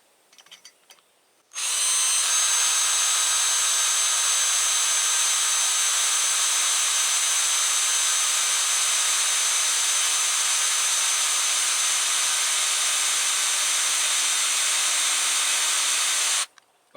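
A drill cuts a 1/8 inch hole with cutting oil, starting abruptly after a quiet second and running as a steady, loud high-pitched whine for about fifteen seconds before stopping sharply.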